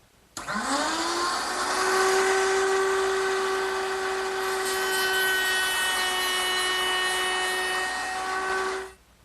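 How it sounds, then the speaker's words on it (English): A router table with a 1/4 inch round-over bit shaping the edge of a kitchen hutch drawer front. The motor whines up to speed within a second, then holds one loud, steady, high tone for about eight seconds before cutting off. "I'll do that with the router table and a 1/4 inch rounding over bit"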